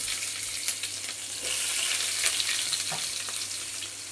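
Chopped onion hits hot oil and fries with a dense, steady sizzle and crackle, close and continuous throughout, with faint clicks of stirring and no voices.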